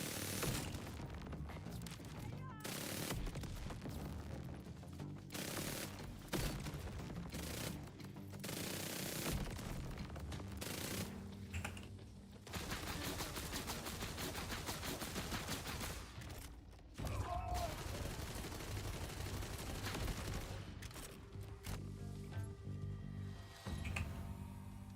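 Rapid gunfire from weapons in a shooter video game, dense bursts and repeated shots with booms running almost continuously, loud and close, no talking.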